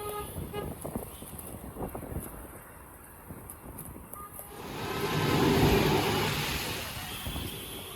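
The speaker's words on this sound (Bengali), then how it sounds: "বিনা কারণে হর্ন দেয়।" A vehicle horn toots amid steady road traffic noise, with engine rumble and a louder passing swell around the middle.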